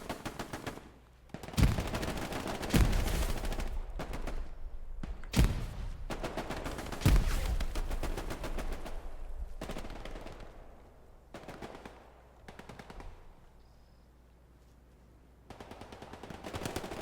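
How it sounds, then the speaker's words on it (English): Bursts of rapid automatic fire from an STG-44 assault rifle in Hell Let Loose, loud and close, with sharp individual shots and heavier thumps scattered through a game battle soundscape. "You can hear the lovely sound of the STG-44."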